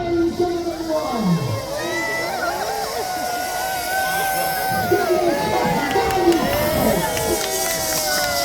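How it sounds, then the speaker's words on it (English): Crowd noise at a staged model naval battle show in Peasholm Park, Scarborough, with a steady murmur of spectators swelling into cheers, continuous and fairly close, under a public-address voice. "Let's have a cheer for the planes on everyone!"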